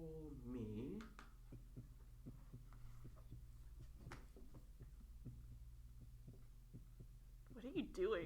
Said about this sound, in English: That's his heartbeat.